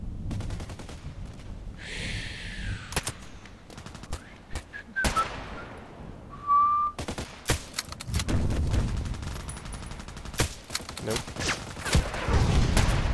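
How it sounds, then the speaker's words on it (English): Gunfire in a shooter video game, with scattered sharp shots and bursts, a rising whistle and a tone in the middle, and heavier, denser firing toward the end; a voice speaks briefly. "Still shooting at me."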